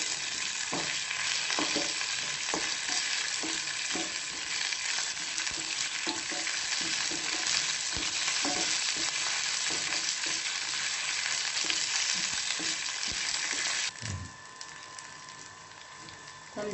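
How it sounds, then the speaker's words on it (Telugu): Red chillies and curry leaves fry in hot oil for a sambar tempering, giving a loud, steady sizzle broken by spatula stirs and scrapes; the frying eases somewhat near the end. "అవి కొంచెం ఫ్రై అయిన తర్వాత రెడ్ చిల్లీస్ యాడ్ చేసుకోవాలి."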